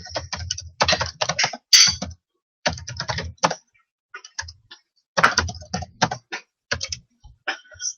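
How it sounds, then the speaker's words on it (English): Bursts of rapid clicking on a computer keyboard, close up, with short pauses between flurries of keystrokes. "Pardon all the clickety-clack and typing."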